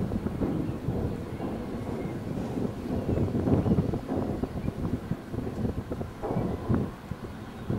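Strong wind buffets the microphone in heavy, rumbling gusts that rise and fall continuously, at a Yorkshire viewpoint over rooftops and a church.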